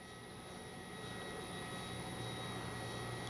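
An electric FLEX Aviator 40E RC plane flying at low throttle, a faint, steady whine with a hissy background, distant and unbroken.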